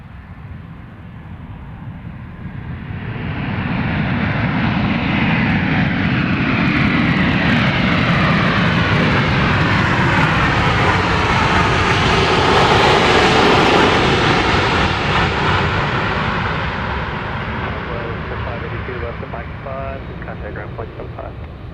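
Jet engines on a Southwest airliner roar at Dallas Love Field on runway 31 right. The loud, sustained rumble builds and swells, then eases off slightly as the aircraft goes by, with radio chatter heard under it.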